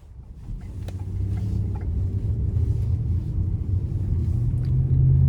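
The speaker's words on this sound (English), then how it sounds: "let's go ahead and take this 2013 Ford Edge Limited out on the road for a test drive" A 2013 Ford Edge Limited with a V6 rolls along the road, its engine a low, steady rumble that builds gradually, heard from inside the cabin with faint wind noise and no talking.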